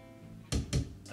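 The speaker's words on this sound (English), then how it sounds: "The bread hitting against the wall." Bread slapped against a wall and EQ'd into a drum sample, giving two loud, punchy thuds in quick succession followed by a softer third hit, with no one talking.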